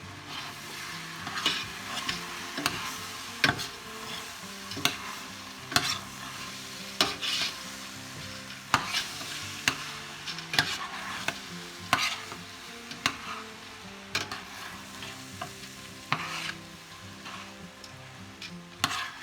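Jambalaya with tomato sauce being stirred in a pot, with a steady low simmering sizzle and repeated spoon scrapes and knocks against the pot throughout, no talking.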